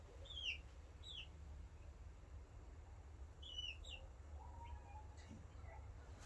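Chicks in a brooder in cold weather peep in short high chirps scattered across the moment, faint and close, over a low steady background hum.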